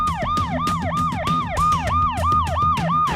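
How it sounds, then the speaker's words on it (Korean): A wailing siren warning of an imminent nuclear strike near Gangnam Station in Seoul rises and falls in steady repeated sweeps, loud and continuous over a low rumbling background. "높낮이가 있는 사이렌이 울립니다."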